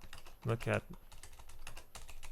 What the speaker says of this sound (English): I'm terrible at typing, in case you haven't noticed.